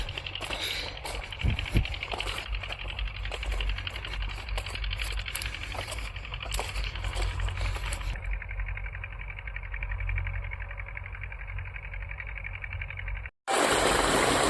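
Irrigation water flows into a farm field, a steady broadband rush with some splashing that drops to a quieter flow partway through, then cuts briefly before a loud burst at the end.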